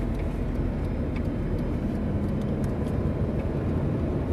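A race car on the Nogaro circuit at full throttle makes a loud, continuous, low engine roar that holds steady throughout, heard from close by with no talking.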